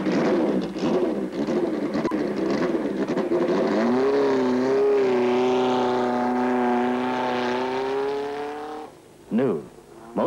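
A Kawasaki Z1 903 cc racing motorcycle ridden at speed: a high, sustained engine whine that rises and holds its pitch, then a brief second pass near the end, with someone narrating over it.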